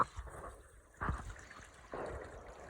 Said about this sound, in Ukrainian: Зараз спробуємо подати одразу велику порцію води